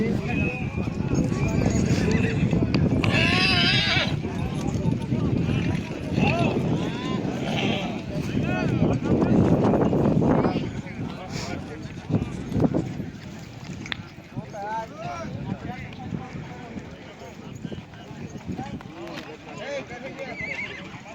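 Horses neigh and whinny with hooves clopping at the Visavada horse race in a village ground in Gujarat, while an announcer talks over a loudspeaker above crowd noise and an occasional animal bleat.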